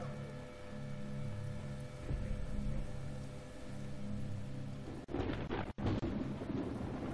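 Rumbling thunder from a thunderstorm with lightning rolls through the video game The Talos Principle over steady rain, building to a louder, sharper crack near the end.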